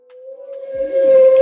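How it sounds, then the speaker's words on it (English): A whale-call alarm sound plays from a small Divoom Ditoo retro speaker, a short, clear, rising tonal moan that swells louder with a breathy hiss underneath. "you can have a whale."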